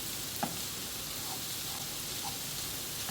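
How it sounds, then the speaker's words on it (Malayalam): Prawns and long beans frying in a pan for a Kerala mezhukkupuratti, a soft continuous sizzle with a few light stirring clicks, fairly quiet and without talk. "എന്തായാലും ഇത് ചെറുകെ കിടന്ന് ഒന്ന് നല്ലതായിട്ട് മൂക്കട്ടെ ഇടയ്ക്കൊക്കെ ഒന്ന് ഇളക്കി കൊടുത്തേച്ചാൽ മതി"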